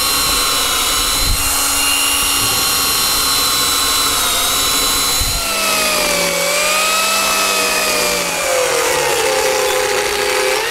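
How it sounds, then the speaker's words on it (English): A power tool bores a series of depth holes into solid wood while a tray is carved, giving a loud continuous whine that shifts pitch between holes, with brief thumps as the bit enters the wood. "I'll drill a series of holes, and they'll act as a depth gauge"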